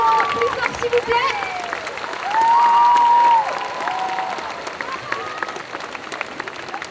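Applause from a convention audience at a solo cosplay contest, continuous clapping of a large crowd under an amplified host's voice, briefly louder in the middle before easing back to a steady patter.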